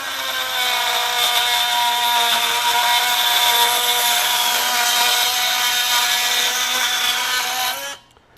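A Ryobi 18V One+ HP multi tool cuts aluminum with a loud, steady high-pitched oscillating buzz that holds for about eight seconds, then stops abruptly, with no talk.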